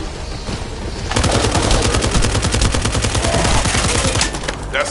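Rapid automatic gunfire from The First Descendant on PlayStation 5 rattles in a dense, loud burst lasting several seconds, with quieter action sounds before it.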